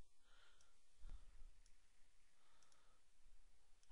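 A computer mouse is clicked once, a faint, crisp tick about a second in, against quiet room hiss.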